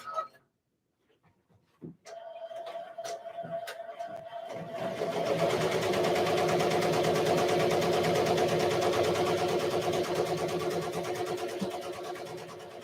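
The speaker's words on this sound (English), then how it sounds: "Ready to sew up the last bit of these shorts." A sewing machine runs steadily for several seconds, stitching up the last seam of a pair of shorts, after a few sharp clicks and handling knocks; a fairly close, continuous mechanical whir.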